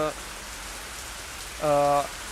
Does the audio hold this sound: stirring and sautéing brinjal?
no